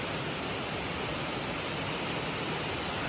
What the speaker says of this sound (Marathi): श्री व्याघ्रेश्वर मंदिराजवळचा धबधबा